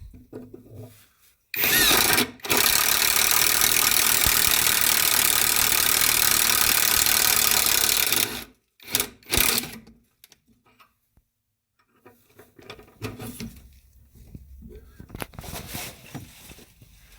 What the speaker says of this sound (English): You can do that with such a versatile impact wrench. So here's the top shock again. Let's do another hole.